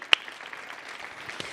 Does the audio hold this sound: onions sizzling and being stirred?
no